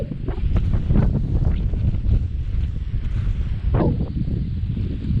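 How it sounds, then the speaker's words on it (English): Steady moorland wind near Woodhead Station and Bleaklow Head buffets and rushes past a GoPro microphone throughout, with a low rumbling roar and occasional stronger gusts. "Not too windy, there's a bit of breeze in there, you can probably hear that on there."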